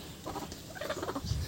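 Farm chickens raised for meat give short, faint clucks and soft calls over quiet outdoor background, with a low rumble rising near the end.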